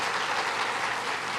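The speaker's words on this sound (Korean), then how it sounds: "박수 해주시기 바랍니다" A church congregation applauds at a pastor's installation service, a dense, loud, continuous wash of clapping filling the room with no pauses.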